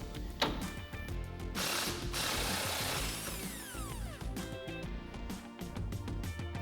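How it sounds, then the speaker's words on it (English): A 15 mm socket ratchet works the lower strut bolts on a 2019-2022 Chevrolet Silverado 1500 pickup, giving close, crisp runs of rapid clicking in several bursts with short pauses between. "I'm going to use a 15 millimeter socket to remove them."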